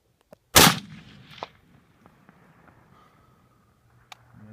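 An M1 Garand rifle fires one loud, sharp shot outdoors at steel targets around 200 yards, followed by a brief echo and faint movement sounds.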